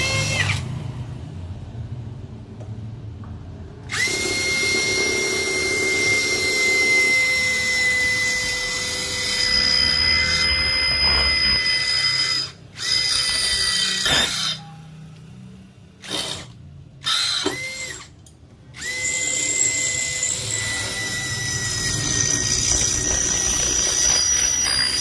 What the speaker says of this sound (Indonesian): Untuk pengeboran material besi nggak ada masalah